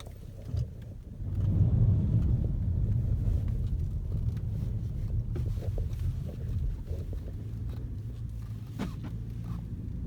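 Cabin road noise inside a 2019 Volkswagen Passat on the move: a steady low rumble and hum of tyres and wind that swells after the first second and stays even, with small clicks and rattles, no talking.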